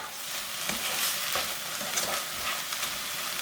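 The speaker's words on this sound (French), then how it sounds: "Je vais mettre le liquide que j'ai utilisé pour faire cuire mon poisson." Fish cooking broth poured into a hot pan, giving a steady broadband sizzle and hiss with a few soft stirring knocks, close and continuous, no talking.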